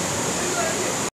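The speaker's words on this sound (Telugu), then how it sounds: "చూస్తున్నారు కదా బగోతా వాటర్ ఫాల్స్" Bogatha waterfall in Telangana roars as a steady, dense wash of falling water, close and loud, holding evenly for about a second before cutting off abruptly.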